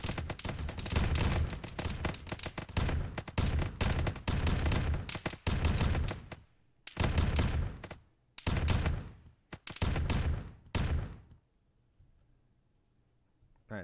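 Dense automatic gunfire in the video game Arma 3 with a Warhammer 40k mod, long rattling bursts at first, then shorter separated volleys with gaps between them, close and loud before tapering into near silence.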